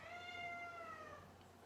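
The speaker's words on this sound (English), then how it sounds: "Sorry, that's my cat." A single drawn-out cat meow with clear rising-and-falling harmonics, fairly near and alone over a quiet room background.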